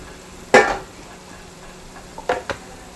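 Chilli, coriander and fennel powders roast in oil in an aluminium pan for a fish head curry, a low quiet sizzle punctuated by two bursts of spoon scraping and stirring.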